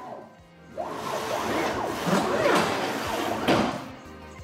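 A Raw Creative CNC machine traverses its axes at 45,000 mm per minute, giving a continuous rising and falling whine with sweeping tonal arcs and a couple of sharp knocks near the end, loud and alone.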